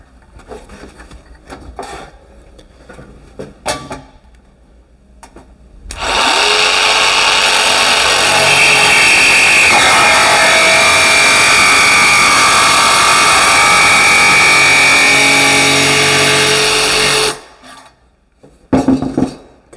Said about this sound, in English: So we'll run along that now with the jigsaw.